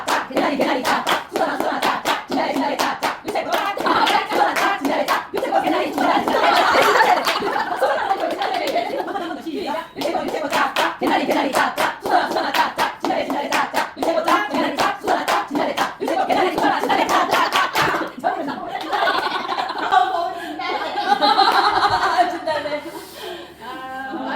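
A small group claps in quick, busy bursts during a hands-and-brain exercise at a small community library, mixed with constant chatter and chuckles among the participants.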